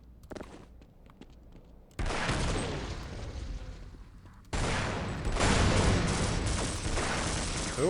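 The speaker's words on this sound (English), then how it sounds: "Who are you shooting at?" Rapid bursts of gunfire in the video game Half-Life, loud sustained volleys that start abruptly after a quieter stretch and then resume even more intensely, with no talk over them.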